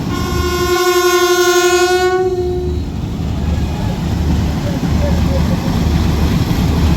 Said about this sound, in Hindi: डिपार्चर विसल हो गया इसका और अब रवाना हो रही है ये अपनी मंजिल पर